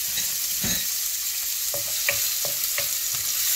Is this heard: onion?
yes